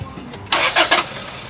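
A car engine starts with a brief cranking burst that catches and settles into idle, loud and close, lasting about half a second with no talking.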